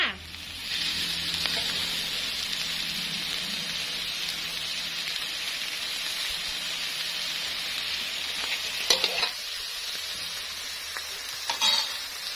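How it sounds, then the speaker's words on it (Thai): Pickled mustard greens stir-frying in a hot pan, a steady broad sizzle running throughout with a few sharper scrapes and clacks of the spatula near the end, close and fairly loud, no voices. "เราจะผัดจนน้ำเขาแห้งเลยนะคะทุกคน"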